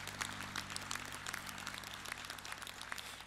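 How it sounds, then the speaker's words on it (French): Audience applause at a university graduation ceremony, a faint, steady patter of many hands clapping throughout, heard from a distance. "une bonne main d'applaudissements, toujours de mise."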